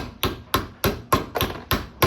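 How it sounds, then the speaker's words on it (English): Hammer tapping out a bearing on a GSX rear roller assembly, eight sharp metallic strikes at a steady rhythm, close and fairly loud with no talk. "We're gonna go ahead and try to tap out this bearing. I don't recommend using a hammer like this"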